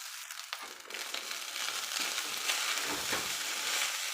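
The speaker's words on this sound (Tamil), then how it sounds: "நல்லா கிளறிக்கலாம் ஃப்ரெண்ட்ஸ் டேஸ்டான கோக்னட் ரைஸ்" Cooked rice being stirred in a hot pan for coconut rice: a continuous close sizzle with scraping and stirring movements that swell midway, no talking.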